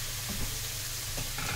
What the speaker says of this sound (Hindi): अभी ऐसे थोड़ा सा मसाला भूनने तक मंदी गैस पे 2 मिनट के लिए छोड़ देते हैं।